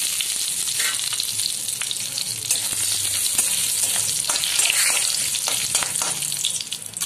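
Two bay leaves, two cinnamon sticks, three cardamom pods and whole black peppercorns fry in hot oil for a dim korma, giving a loud, continuous close crackling sizzle with occasional stirring and no talk.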